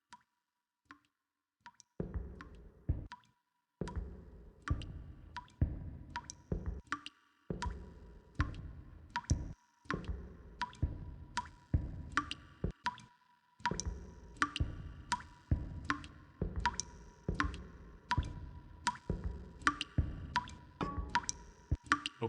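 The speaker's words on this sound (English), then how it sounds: "There's a pipe that's always leaking right above it. I guess I'll just have to walk towards the dripping sound." Water drips steadily from a leaking pipe in a quiet space in a video game, each drop a sharp plop arriving in quick irregular runs with brief pauses between bursts.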